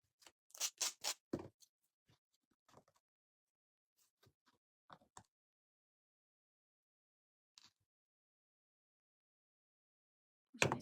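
Miter shears snipping craft material for a miniature house, heard as a quick burst of crisp cuts followed by sparse, isolated snips across a quiet room.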